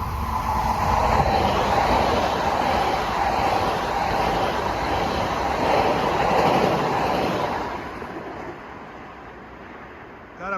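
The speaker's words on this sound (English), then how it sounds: "Got a westbound coming." A westbound Long Island Rail Road train passes Forest Hills during the evening rush, a loud sustained roar and rattle of wheels on track that fades away near the end.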